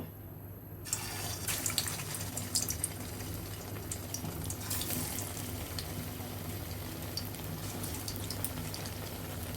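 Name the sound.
chicken burger patties frying in hot oil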